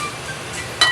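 A metal lid set back down on a cooking pot of sinigang na tilapia, a single brief clink near the end over faint background hiss.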